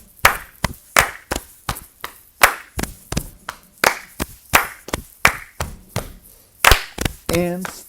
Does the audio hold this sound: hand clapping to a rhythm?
yes